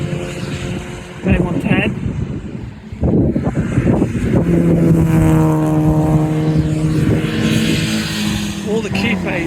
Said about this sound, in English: Here comes that Clio that spun out earlier.